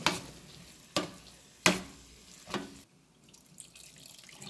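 Mackerel curry with tamarind water cooks in a pan, with a few sharp scraping stirs and splashes spaced about a second apart, then a soft simmer, close and alone.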